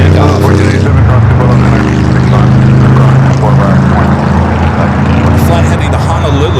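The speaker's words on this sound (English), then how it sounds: "We have a United 757 at 300 up next for takeoff." A United Boeing 757 takes off at LAX with a loud, continuous engine drone and low humming tones. Voices may be faintly mixed under the roar.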